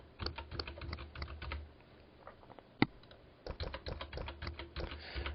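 A password being typed on a computer keyboard: bursts of quick close key clicks, a pause with a single louder tap, then another run of rapid typing.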